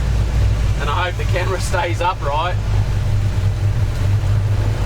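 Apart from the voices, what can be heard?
motorhome engine and traffic noise while driving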